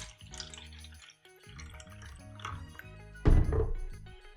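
Skyra water is poured into a cup in short, quiet trickles and drips that are broken by a brief pause, then a louder splashing burst near the end, with no talk.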